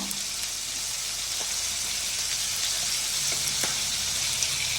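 Pandugappa fish pieces fry steadily in oil for a tomato curry, a dense continuous sizzle with occasional small pops and crackles, close and even throughout.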